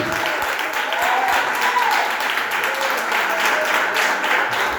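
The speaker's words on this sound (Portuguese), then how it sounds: "Será que tem palmas para Ele?" Church congregation at an evangelical service applauds steadily, dense sustained clapping filling the hall for several seconds with faint voices underneath.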